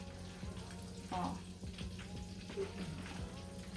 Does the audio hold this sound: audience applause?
no